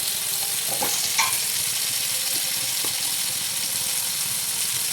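Chili powder, coriander powder, garam masala, cumin and fenugreek powders fry in a pan, giving a steady close sizzling hiss with a few brief stirring clinks near the start.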